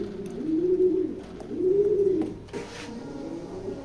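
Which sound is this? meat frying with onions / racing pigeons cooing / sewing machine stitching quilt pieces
racing pigeons cooing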